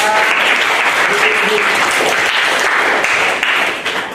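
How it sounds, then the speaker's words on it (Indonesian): A class applauds during a basic photography lesson, loud continuous clapping from many hands that holds steady and then tapers off at the end. "kita tepuk tangan kita"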